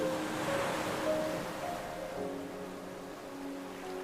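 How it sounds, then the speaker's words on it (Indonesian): Ocean surf in Krui washes in from a distance as a faint, steady wash of breaking waves, with no voices present. "suara ombak yang samar-samar kedengeran dari kejauhan"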